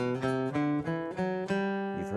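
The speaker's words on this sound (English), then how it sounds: "From the major scale, the one that sounds like this." A major scale is played on a sustained, tonal instrument, notes stepping one after another at an even pace, clear and close with no voices.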